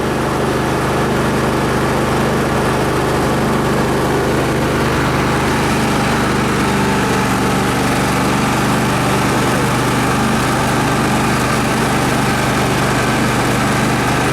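A lawn mower engine runs continuously and loud at close range for a long stretch, a dense steady roar with no pauses or voices.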